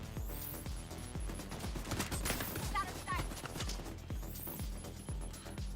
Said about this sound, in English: Bullets going through walls.